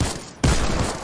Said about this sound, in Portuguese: tem tiro aí,